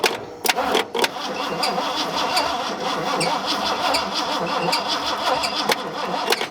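Engine of an abandoned Ford F-250 cranking over in rapid, loud repeated pulses, the starter churning steadily for several seconds without catching.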